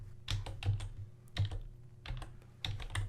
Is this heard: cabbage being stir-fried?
no